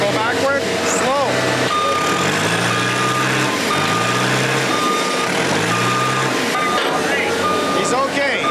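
A truck backs up slowly with its reversing alarm, a steady series of loud, evenly spaced beeps over a rumbling engine, while people call out directions nearby.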